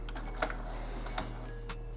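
An Epson Expression Premium XP-6105 printer runs its print head cleaning cycle, a steady mechanical hum punctuated by irregular small clicks and ticks at close range, with no talk.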